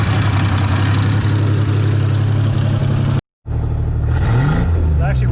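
A 2.9 liter Ford Bronco II engine idles loud and close, a steady low rumble with a rhythmic pulse that drops out for a moment, then returns with a brief rise in revs.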